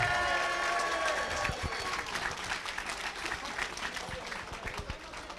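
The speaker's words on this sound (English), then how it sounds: "let's give them another round of applause" A theater audience applauds a cast as they leave the stage after a charity show, dense clapping and cheering filling the room steadily and loud, easing slightly toward the end.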